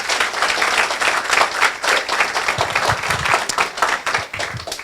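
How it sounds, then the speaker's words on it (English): A room full of people claps at a University of Sint Maarten accreditation ceremony: continuous, fairly loud applause with distinct individual claps rippling through the whole stretch. "So if we can give him a round of applause and acknowledge all the work he's done."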